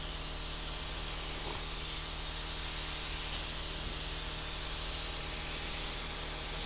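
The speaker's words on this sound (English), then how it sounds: "You could just do a mist coat on it" A paint spray gun lays a light mist coat of watered-down cobalt blue candy paint over chrome, giving a continuous, even hiss of air and atomized paint throughout with no pauses.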